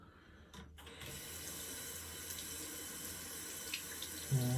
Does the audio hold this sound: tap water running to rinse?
yes